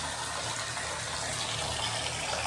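Water flows steadily down an unplugged drain in newly installed bungalow plumbing, a soft, even rushing hiss that stays quiet and constant throughout.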